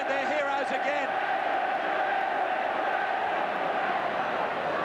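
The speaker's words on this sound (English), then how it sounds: "This crowd get behind their heroes again." Test-match rugby league crowd between Great Britain and Australia in 1990 roars and cheers steadily from the stands, a dense, sustained wash of voices with a commentator talking over it.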